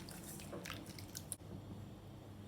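Soaked tamarind is squeezed and strained in water while a South Indian fish curry is being made, giving faint, close squelches and light drips, with one brief sharper splash near the middle.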